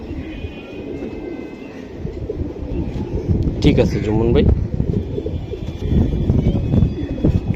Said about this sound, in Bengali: এই যে আর একটা কবুতর, এটা মাদি কবুতর।